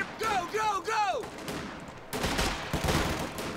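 Machine gun fire from the World War II strategy game Company of Heroes 2 breaks out as a dense, continuous rattling burst in the second half, following a brief stretch of voice.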